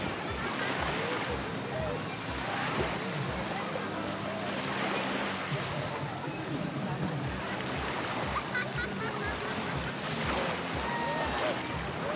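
Constant rushing surf and wind noise at the shore of Puerto Azul beach, a dense wash of breaking waves with faint voices blended into the background.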